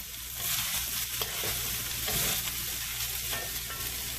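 Fried rice toasting in oil in a pan with steak, shrimp and chicken, crackling in a dense, continuous sizzle with repeated stirring scrapes close by.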